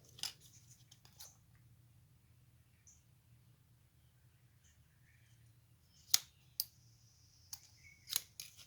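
A jagged end of battery cable is snipped off with a cutting tool, a few sharp, crisp clicks near the end after a stretch of near silence with faint handling noises, close and quiet.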